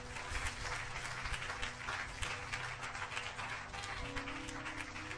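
A church congregation applauds and cheers for the Lord in a steady, dense roar of clapping and voices that holds throughout.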